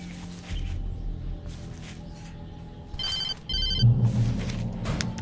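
In the video game Alan Wake, a telephone rings in a couple of short electronic trilling bursts over low ambient game sound and music, fairly clear and close.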